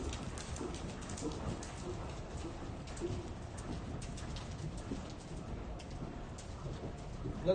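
Horse hooves cantering in an arena during a riding clinic: a steady, continuous rhythm of hoofbeats on footing, with faint bird calls in the background.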